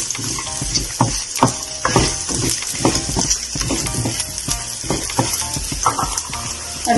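Onion, spring onion and red chilies sizzle and fry in a pan while being stirred, with repeated scraping strokes over a constant close hiss.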